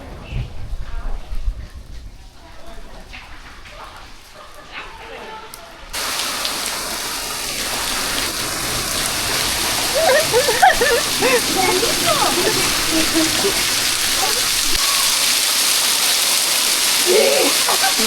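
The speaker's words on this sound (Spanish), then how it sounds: "Nos agarró la lluvia, gente, así que estamos recorriendo bajo la hermosa lluvia." Steady rain falls on the streets of the Spanish village of Albarracín, a dense continuous hiss with scattered splashes that grows heavier partway through, with muffled activity beneath.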